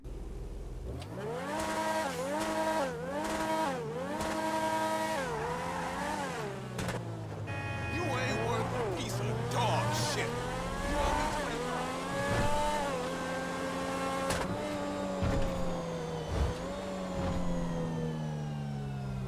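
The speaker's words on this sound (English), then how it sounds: "It's just kind of an average like supercar sound" A Grotti X80 Proto supercar engine in GTA Online revs up and down repeatedly, then drives off with rising and falling gear-change pitch sweeps and a brief tire squeal, loud and continuous throughout.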